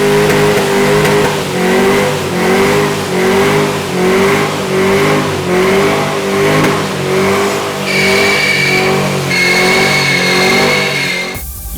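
A V8 engine, about to be swapped into a Nissan Silvia, revs repeatedly in loud, rhythmic surges, very close, with a higher whine rising in the last few seconds.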